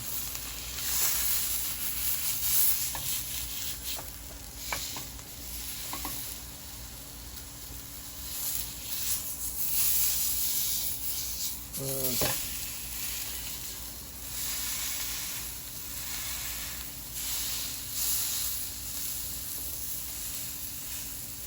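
Quiet, continuous sizzling and crackling of steak frying in a hot cast iron pan, with a steady hiss and occasional faint pops.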